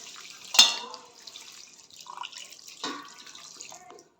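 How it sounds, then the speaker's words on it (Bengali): Water poured into a wok of jackfruit and fried prawn curry, a sputtering splash followed by a soft running, bubbling pour that fades near the end. "জল ঢেলে দিতে হবে"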